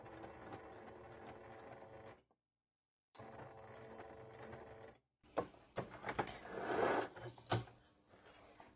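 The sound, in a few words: sewing machine stitching bias binding at a corner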